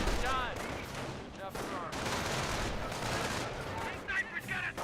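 STG assault rifles firing during a Company of Heroes battle, sustained dense bursts of gunfire mixed with other battle noise, with a voice talking over it.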